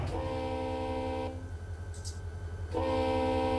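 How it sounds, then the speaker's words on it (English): Horn on a BNSF SD40 diesel locomotive in Run8 Train Simulator blares in two long sustained chords, loud and close, with a brief gap between blasts over steady engine rumble. "I was testing out the train horn. This is the horn that I put for this SD40."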